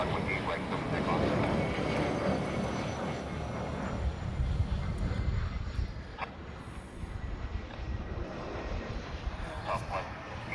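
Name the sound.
aircraft taking off from Honolulu runway 8 right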